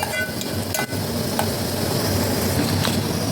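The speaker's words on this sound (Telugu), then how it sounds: "ఆయిల్ వేసి అందులో ఉల్లిగడ్డలు పచ్చిమిర్చి కరివేపాకు ఫస్ట్ బాగా ఫ్రై చేసుకోవాలి" Onions, green chilies and curry leaves frying in oil in a pan, a dense, continuous close sizzle with light stirring scrapes and no voices.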